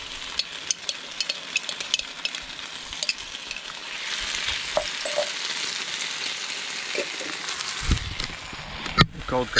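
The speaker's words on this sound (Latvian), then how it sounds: "Ātri vienkārši uzmet uz pannas un sasildu un ēdu." Ready-made pork in a pan reheats and fries with a steady sizzle that swells partway through, punctuated by clinks and scrapes of stirring utensils.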